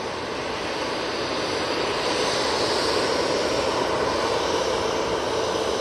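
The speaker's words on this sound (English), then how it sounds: "We've got the Eurowings going back to Dusseldorf. These are A320-200 for this flight." A Eurowings Airbus A320-200 jet taxis for departure, its engines giving a loud, constant roar and hiss that holds steady throughout, with no talk.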